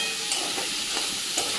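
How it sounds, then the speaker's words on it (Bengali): Onions fry in a pan for a chicken curry, a dense steady sizzle with soft stirring scrapes, close by and without talk. "এই পেঁয়াজ দিয়ে দিলাম। হ্যাঁ ব্যাস, এবার ভালো করে নেড়ে চেড়ে ভেজে নিই।"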